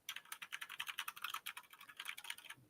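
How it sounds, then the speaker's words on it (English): Fingers type rapidly on a computer keyboard, a dense run of light, quick clicks and taps at a close, soft level with no talking. "It sounds very nice, but I'm using my other keyboard."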